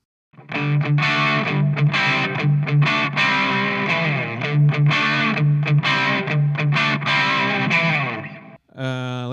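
An electric guitar plays a crunch tone through a multi-effects unit, strummed rhythmically with slightly overdriven, gritty chords in a steady driving pattern, ending in a brief scrape.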